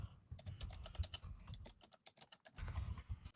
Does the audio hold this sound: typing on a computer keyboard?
yes